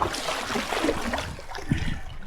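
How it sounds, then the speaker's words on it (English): Lake waves stirred up by a passing thunderstorm slosh and splash around a solo kayak on the Yukon River, a continuous close watery churning with small gurgles and slaps against the hull. "it's kicked up some nice waves"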